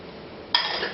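Water pours into a pan of white vinegar and sugar for a mushroom marinade, a steady bright splashing that starts abruptly halfway through and continues close and fairly loud.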